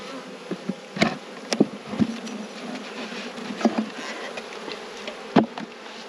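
Honey bees swarm around a rescue hive, a continuous close buzz with individual bees zipping past the listener and a few light knocks and taps.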